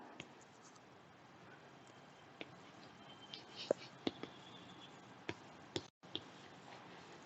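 Faint scratchy writing on a board in a maths lesson for young pupils, with soft strokes and a few sharper taps spread through a quiet room.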